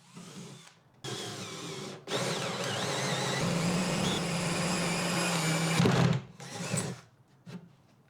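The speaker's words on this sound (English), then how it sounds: "I then used that same 5/8 inch hole saw to create two holes for the support rod to go all the way through the barrel" A 5/8 inch hole saw drills through a wooden compost-tumbler barrel, a loud, grinding power-tool whir running in bursts, one short run then a long sustained cut of about four seconds, then winding down with a few trailing spurts.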